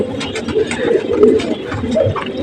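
Pigeons coo softly in their loft after a summer bath: low, throaty, overlapping calls repeating close by, with some faint background noise.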